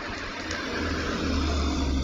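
A car approaching in a replayed clip, its engine a steady low roar that grows gradually louder and closer across the stretch, with no speech.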